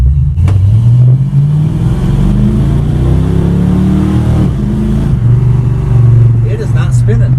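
A 1980 Dodge with a 318 Mopar V8 and a traction bar accelerating hard on takeoff, loud close engine revving that climbs through rising pitch, eases off, then surges again, with voices over it.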